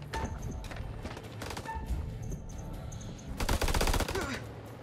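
Gunfire in the House of Ashes video game, a rapid rattling burst of shots over a busy game soundscape, ending in a louder, denser volley toward the end.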